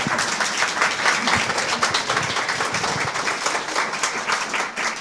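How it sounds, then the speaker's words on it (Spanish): Audience applause at a Spanish-language teaching session: continuous dense clapping from a crowd, steady and fairly loud throughout, with no talk over it. "Un aplauso a nuestra hermana Karen, por favor."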